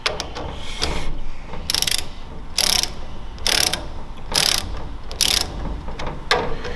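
Ratchet tightening the connecting rod cap bolts on a 2JZ engine during a build, heard as close, loud bursts of rapid clicking that come in about six short runs, separated by brief pauses.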